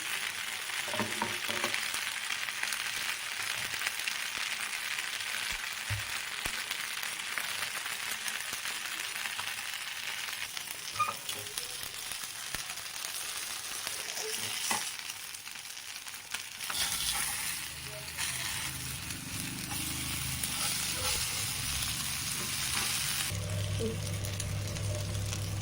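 Fish tawa fry roasting on a hot flat pan sizzles with a steady hissing crackle throughout, a few soft scraping stirs and pan knocks near the end, no one speaking.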